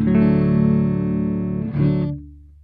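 Clean electric guitar tone through a Yo-Yo Zombie amp with no pedal engaged: a sustained ringing chord, then a second strum around the midpoint that rings briefly and fades out, played alone.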